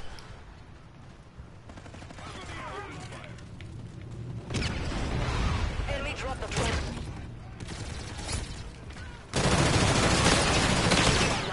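Rapid automatic gunfire from Call of Duty: Infinite Warfare comes in bursts, dense and rattling, growing louder toward the end, with a voice talking over it.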